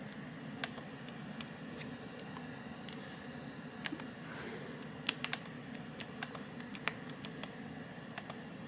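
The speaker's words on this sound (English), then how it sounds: "let's try typing something." Light, irregular clicks of a small Fujitsu Lifebook U820 or Sharp Netwalker netbook keyboard being typed on, close by, with scattered sharper key taps over a faint background hum.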